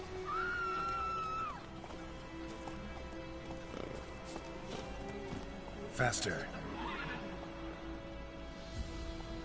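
A horse gallops and neighs in The Witcher III video game, with hoof clip-clops and a whinny over game sounds while a person speaks throughout.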